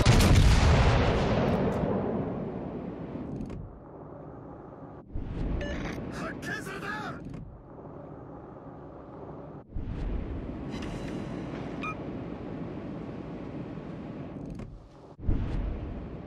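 Naval artillery from the battleship HMS Hood in World of Warships: heavy booming salvos at irregular intervals, each followed by long rumbling decay, with game voice callouts between shots.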